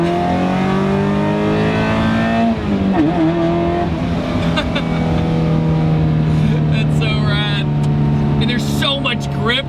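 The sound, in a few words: Equinox-engine-swapped Mazda Miata accelerating in second gear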